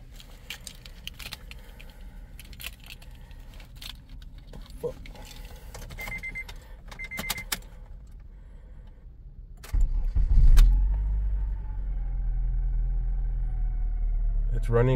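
Acura TSX engine cranks and catches after a repair, then settles into a steady low idle, heard after keys jangle and handling noises under a quiet room hum.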